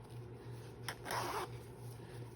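A short zipper pull rasps once, quick and close, on a sewn fabric zippered pouch, against a quiet room hum.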